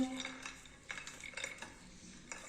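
Chicken mince, walnuts and browned onion being mixed in a bowl, with light clinks and scrapes of a spoon against the dish in soft, irregular bursts, faint and close, without talking.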